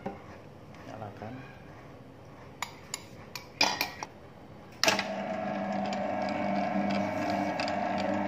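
An electric stand mixer starts up to knead dough after wet ingredients are added to the dry ones: a few clanks and clicks, then a steady loud motor whir with a mechanical rattle that runs to the end.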